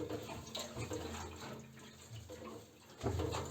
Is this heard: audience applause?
no